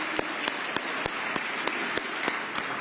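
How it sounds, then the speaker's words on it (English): Audience applause at a Veterans Day breakfast reception honoring airmen, a steady wash of clapping with a few sharper individual claps standing out, sustained and moderately loud throughout. "Let's give our airmen a round of applause."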